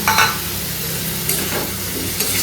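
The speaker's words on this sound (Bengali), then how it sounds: "ভালো করে একটু এক দু মিনিট ভাজবো টমেটোটা দিয়ে" Tomato fries with spices in a hot pan, making a steady close sizzle with a few soft stirring scrapes and no talking.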